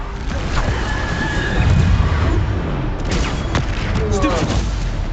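Bombarda spell explosions in the game Hogwarts Legacy, several loud booming blasts with rumbling tails and debris, under a voice repeatedly chanting spell names.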